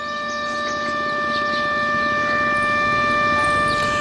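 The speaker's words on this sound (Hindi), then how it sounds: "सायरन बजा के लोगों को आगाह कर दिया गया" A steady warning siren tone in the Jaisalmer border area holds throughout, sustained and unbroken over a constant low hum, with no voices.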